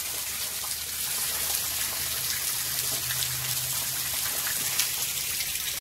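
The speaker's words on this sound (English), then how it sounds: "Rain, go away." Steady rain hisses continuously with fine, dense patter and a low hum underneath, even and unbroken throughout.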